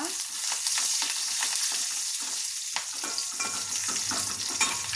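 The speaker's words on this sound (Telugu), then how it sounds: "అలాగే రెండు ఎండుమిరపకాయలు దంచి పెట్టుకున్న రెండు ఎల్లిపాయలు వేస్తున్నా ఇవి ఫ్రై అవ్వాలి" Dried red chillies, crushed garlic and curry leaves fry in hot oil in a pan with a continuous crackling sizzle and scattered pops, close and steady throughout.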